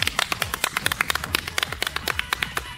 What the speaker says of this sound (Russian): Давайте дружно все вместе похлопаем в ладоши